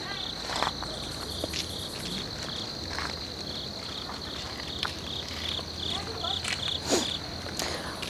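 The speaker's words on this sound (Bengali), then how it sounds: "আর চারপাশে কিন্তু পুরো ঝিঝি পোকার ডাক" Crickets chirp at dusk in the hills around tea gardens at Sittong, a dense, continuous high trill with a few faint knocks and rustles beneath it.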